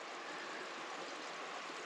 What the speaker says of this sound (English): he's right on the edge of the creek